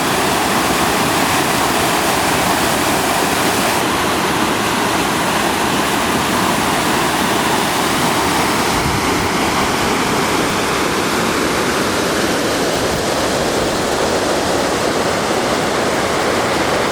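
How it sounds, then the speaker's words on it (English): Creek water splashes and rushes steadily over rocks along Pine Creek Trail in Sabrina Basin, a loud, close, continuous broadband wash with no voices. "A lot of splash happening."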